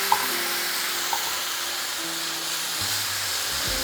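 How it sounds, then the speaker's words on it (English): Warm water hits a pan of sizzling masala for a black-eyed peas curry, a steady hiss and bubbling fry with a pouring trickle, close and continuous with no talking. "So here I'll be adding in little warm water."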